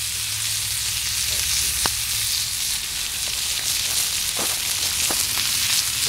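Burgers sizzle in a pan over a camp stove at a riverside kayak campsite, a steady close hiss with a few sharp clicks and pops and no voices.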